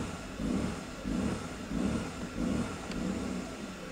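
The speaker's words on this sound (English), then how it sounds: "I'm pressing on the gas pedal and nothing is happening" A Mercedes engine revs weakly and unevenly as the gas pedal is pressed, giving four or five faint, close swells that fail to build, with no talking.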